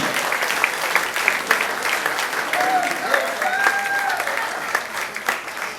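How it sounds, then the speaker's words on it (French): An audience at an African wax-print fashion show applauds the head seamstress, a dense sustained patter of many hands with crowd murmur and a voice beneath it. "Applaudissez, s'il vous plaît, Jamila et Sandrine."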